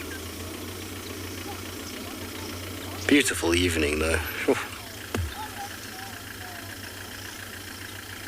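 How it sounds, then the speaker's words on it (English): A vehicle idles and rumbles low and steady on a safari game drive at a South African dam, a continuous mid-pitched engine hum throughout, with a person speaking briefly over it near the middle. "You might hear a car coming."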